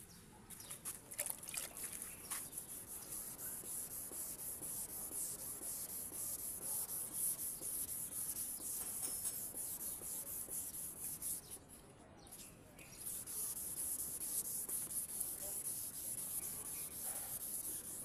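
Car headlight lens being wet sanded with 1000 and 2000 grit sandpaper, a steady rubbing scrub with a faint watery edge and a brief pause partway through, quiet and close.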